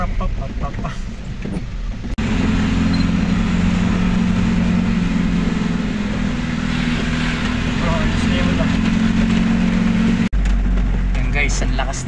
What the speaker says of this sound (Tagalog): umuulan pero traffic pa rin.